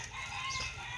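Chickens cluck at feeding time, a short close burst of fowl calls over a low steady background hum.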